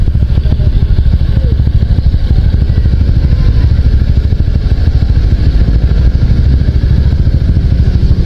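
A motorcycle engine hums steadily while a couple rides around Baguio City, a loud, continuous close rumble with a rough, clattering texture and no pauses.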